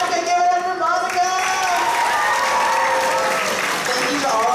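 Loud, steady applause from an audience at a high school spoken word event, honoring a judge, with cheering voices layered over the clapping throughout.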